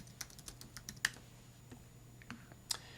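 Quick bursts of clicky keystrokes on a computer keyboard while coding, with short pauses between runs of typing, close and fairly quiet.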